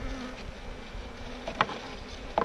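Honey bees in a shipped package buzz in a steady, close drone, with a couple of louder passes as individual bees fly near.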